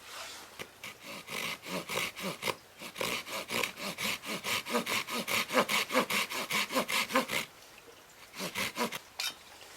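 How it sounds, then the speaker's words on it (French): A hand saw cuts wood while a spoon is carved. Fast, rhythmic back-and-forth strokes are heard close up, with a brief pause before a final few strokes. "Donc là, un petit trait de scie."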